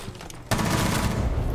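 Gunfire in Rainbow Six Siege, a sudden loud burst of rapid shots that starts partway through and keeps up densely to the end.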